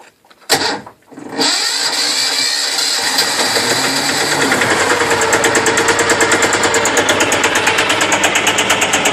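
A Maya engine cranks over briefly after the key is turned, then catches and settles into a steady, loud idle with a fast regular pulse.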